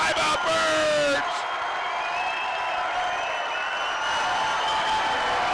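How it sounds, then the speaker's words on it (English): Home crowd at a Casper College men's basketball homecoming game against Sheridan roars and cheers loudly during a timeout, a sustained wall of yelling and whoops filling the arena. "Listen to this crowd. Everybody on their feet."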